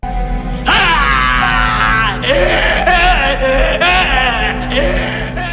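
A man screams and wails in long, strained cries in a Halloween film scene, over a low rumbling backdrop, his voice rising and breaking repeatedly for several seconds.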